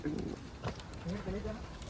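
Pigeons in a coop set up in a farm field give soft low cooing calls, a few short throaty notes close by, while someone talks over them.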